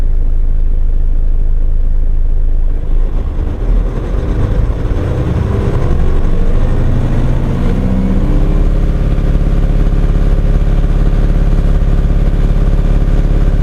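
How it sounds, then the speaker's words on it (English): A Hino diesel commercial truck engine revs up from idle to maximum during a diagnostic test, its drone rising and thickening over several seconds and then holding loud and steady. "the engine revolution goes up to maximum"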